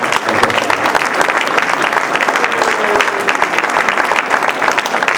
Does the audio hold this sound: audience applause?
yes